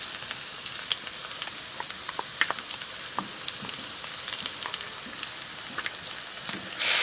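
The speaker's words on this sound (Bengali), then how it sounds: "ভালো করে কিন্তু কষিয়ে নেব।" Ground spice paste with salt and turmeric is sautéed in an oily pan for Bengali sukto, giving a steady close crackling sizzle with soft stirring scrapes throughout.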